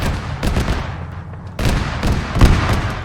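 Bursts of gunfire and heavy booming shots in the Wargame strategy game, in two distinct clusters separated by a brief lull, loud and close with punchy low rumbles.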